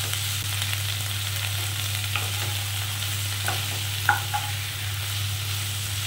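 Capsicum fries in a pan with cauliflower, giving a steady, moderate sizzle over a constant low hum, with a few soft scrapes and clicks of a utensil near the end.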